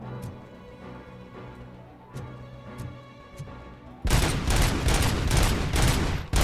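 Gunfire in the video game RoboCop: Rogue City, several sharp shots in the first half, then a loud, dense rapid volley of shots to the end.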